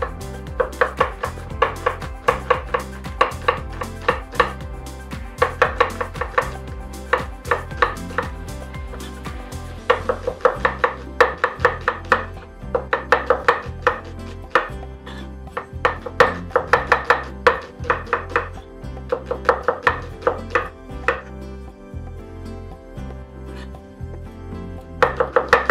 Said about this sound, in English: And now we'll just julienne them.